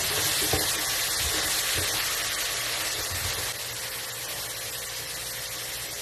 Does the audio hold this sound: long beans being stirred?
yes